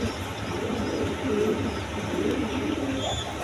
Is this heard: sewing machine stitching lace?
no